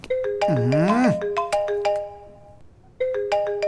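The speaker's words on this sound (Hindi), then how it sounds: "Some bad guy is calling." Incoming-call ringtone from a phone in a Hindi action film scene, a bright warbling melodic tone repeating in short bursts, fairly loud, pausing briefly before starting again.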